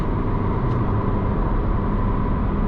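Cabin of a 2020 Honda Civic Si cruising at highway speed in sixth gear, a steady, even drone of engine, road and wind noise heard from inside the car.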